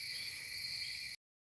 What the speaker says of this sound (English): You can hear all the crickets and the birds and the owls